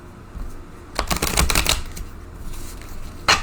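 Tarot cards are shuffled close up, a quick riffle of rapid crisp flutters near the middle followed by a final snap, moderately loud, with quiet pauses around it and no speech.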